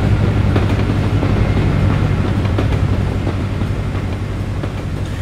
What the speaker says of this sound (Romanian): Oare ce tren vine? Călători?